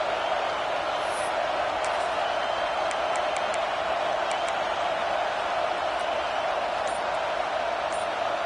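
Dense stadium crowd at a college football game on fourth down: a steady, loud roar of massed voices holding constant throughout, with a commentator speaking over it.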